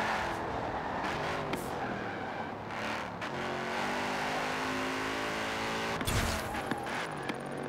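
A stock Aston Martin driven in the racing game Forza Horizon 4, with the engine droning and revving steadily, brief tire noise, and a sharp knock or impact near the end.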